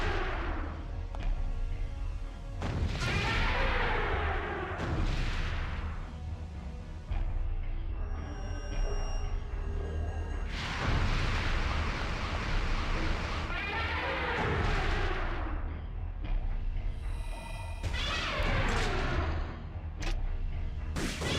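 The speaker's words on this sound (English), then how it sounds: "I mean, these grenades are doing damage." Repeated heavy grenade blasts from Parasite Eve 2, loud booming thuds with rumbling tails at irregular intervals over continuous game noise, no talk.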